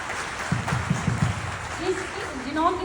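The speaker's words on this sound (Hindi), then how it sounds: "मिस्टर दीवान सिंह मुड़ेला सर के लिए जोरदार तालियां होनी चाहिए" An audience at a business leadership event claps in a soft, continuous patter for an honoured guest, sitting under someone speaking into a microphone.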